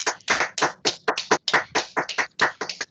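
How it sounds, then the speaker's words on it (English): Online meeting participants unmute to applaud, producing a sparse, uneven patter of close individual hand claps in irregular bursts rather than a blended crowd sound. "If you want to unmute, and let's have some applause."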